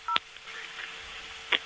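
Two short telephone keypad tones, DTMF beeps from pressing 1 on an automated directory line, each a brief sharp blip about a second and a half apart over a faint line hiss.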